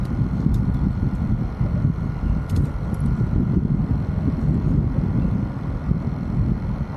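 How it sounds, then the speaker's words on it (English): Strong wind blowing across a fishing pier on the Skyway, steady low rumbling gusts buffeting the microphone throughout, loud and continuous with no talking. "You have to realize it's super windy"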